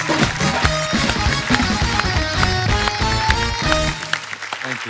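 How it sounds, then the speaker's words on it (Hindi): A television comedy show's studio audience applauds, with dense clapping blended with music that runs continuously and fairly loud before thinning near the end. "जोरदार तालियां हो जाए एक बार।"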